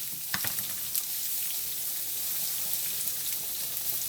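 A T-bone steak fries in a hot pan, a steady close hiss of sizzling fat with scattered sharp pops and crackles throughout.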